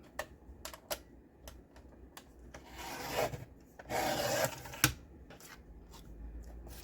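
Scissors cutting through a paper file folder, a series of short crisp snips and rustling paper passes, quiet and close, with brief louder swishes of paper in the middle.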